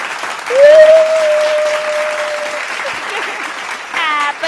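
Children clapping their hands together in a classroom lesson, a steady patter of claps running the whole time at close range, with a sustained sung or voiced tone over the start and a brief voice near the end.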